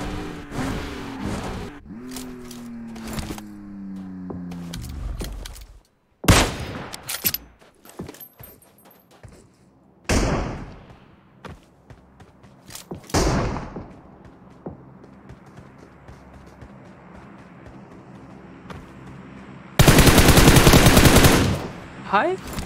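Gunfire in the mobile battle-royale game PUBG Mobile, with loud bursts of automatic fire and heavy single shots spread across the clip, separated by quieter stretches of in-game movement and noise.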